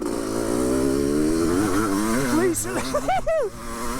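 A 47-year-old two-stroke motorcycle engine drones and rises in pitch as it revs under riding load, loud and close with wind noise, and a voice talks over part of it.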